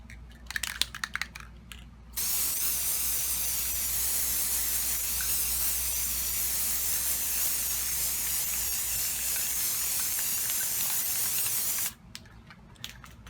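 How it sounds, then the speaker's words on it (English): A steady aerosol spray hisses continuously for about ten seconds, close and loud, onto a cigar box guitar, with brief rustling and handling noises before and after. "So now it's time to turn this over and spray the opposite side the exact same way."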